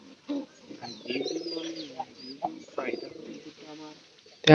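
A sickly, wasting pigeon coos in low repeated phrases at close range, mixed with a voice talking over it, ending in a sudden loud thump.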